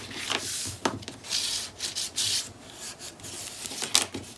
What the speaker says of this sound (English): now we're gonna burnish that on in place